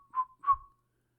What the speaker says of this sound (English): Mr. Oscar began to whistle somewhat as follows.